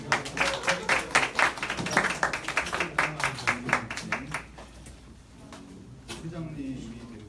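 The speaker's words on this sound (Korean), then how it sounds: "박수로 환영하겠습니다." A church audience claps to welcome a new high-school student at a Sunday service, with a burst of quick, dense clapping that thins out after a few seconds, while voices talk over it.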